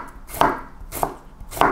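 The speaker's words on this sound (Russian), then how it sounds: "Нарежу огурец соломкой." Knife chopping cucumber into thin strips on a board, three distinct crisp cuts at an even, unhurried pace, close and clear with no talking.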